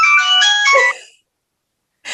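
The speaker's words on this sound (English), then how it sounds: "Can you believe this phone?" An old mobile phone rings with a bright, electronic melodic ringtone, loud and close, playing a short burst of tones that cuts off and then starts again after a brief silence.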